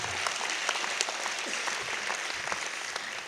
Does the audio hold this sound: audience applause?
yes